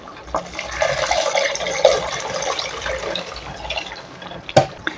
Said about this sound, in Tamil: இப்போ நம்ம புளித்தண்ணி ஊற்றிக்கலாம்